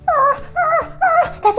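A human voice imitates a whimpering dog during toy play, giving four short, rising and falling whiny cries in close succession, near and fairly loud.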